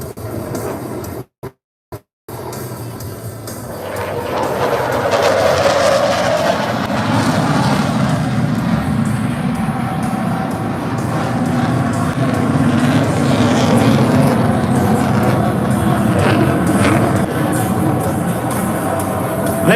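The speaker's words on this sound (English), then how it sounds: "It's a twin-engined aircraft, the Typhoon." A twin-engined Eurofighter Typhoon, a canard-design jet, flying at an airshow over the sea at Qawra, Malta, gives a steady, broad roar that swells and holds, loud and continuous after a brief cut near the start.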